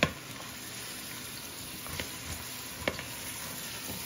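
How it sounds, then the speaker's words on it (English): Diced yellow onion frying in a pot, giving a steady soft sizzle throughout with a few faint clicks and stirring knocks, fairly quiet and with no talking. "We are just going to cook this until the onions become translucent."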